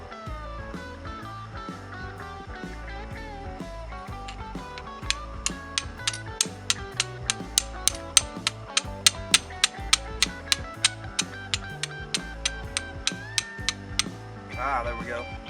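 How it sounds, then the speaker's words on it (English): Flint struck against steel over char cloth in a camp setting, a fast run of sharp metallic scrapes and clicks, close and fairly quiet, repeating steadily for several seconds before a softer rustle at the end. "flint and steel with a piece of char cloth directly to the fat wood shavings"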